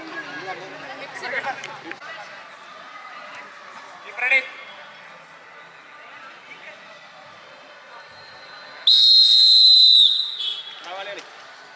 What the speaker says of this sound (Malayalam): മത്സരത്തിലെ ആദ്യ വിസിൽ മുഴങ്ങിക്കഴിഞ്ഞിരിക്കുന്നു.